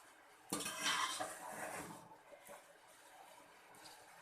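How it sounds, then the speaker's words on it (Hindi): A spoon gently turning cooked rice for a sweet Hazara-style matanjen in a pot, a burst of metallic scraping and clinks near the start, then quieter soft stirring fading to a faint hiss. "फिर बहुत हल्के हाथ से हम इनको जो है वो चम्मच चला लेंगे, ऊपर नीचे कर लेंगे"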